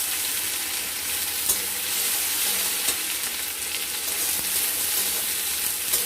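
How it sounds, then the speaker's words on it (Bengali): Chopped tomato fries with reddened onions in a pan, giving a steady, dense sizzle and hiss up close with occasional faint stirring taps throughout. "আমরা টমেটোটাকে ভালো মতো করে ভেজে নেব"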